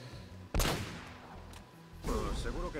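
A few sharp gunshot bursts with crashing impacts over quiet background music in the video game Uncharted: Drake's Fortune, with voices appearing near the end.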